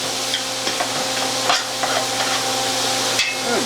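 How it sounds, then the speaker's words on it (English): Garlic, onions and celery stirred in a cooking pot, a soft steady sizzle broken by a few scraping knocks of the spoon against the pot, close and with no talking. "Give that a stir."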